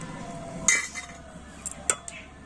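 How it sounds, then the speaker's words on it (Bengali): A knife slicing through layered paratha dough on a hard surface, with a few soft taps and light metallic clinks against a quiet background. "আর এবার একটা ছুরি দিয়ে এইরকম মাঝখান দিয়ে কেটে দিচ্ছি"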